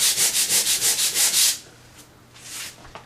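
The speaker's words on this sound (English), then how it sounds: "just want to lightly sand it" Sandpaper rubs lightly over a patched drywall outside corner in about ten quick, rhythmic back-and-forth strokes, then stops, leaving only a few faint scrapes and soft handling noises.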